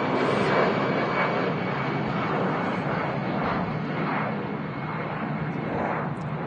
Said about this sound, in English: There goes the Brussels Airlines A320.